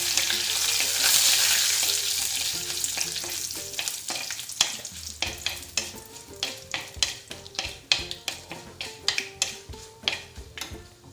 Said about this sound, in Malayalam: ഈ ചതച്ച് വെച്ചിരിക്കുന്ന രസക്കൂട്ട് ഇതിലേക്ക് ഇട്ട് കൊടുക്കാം